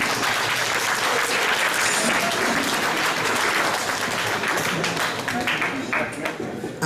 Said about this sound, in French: Donc, un petit applaudissement.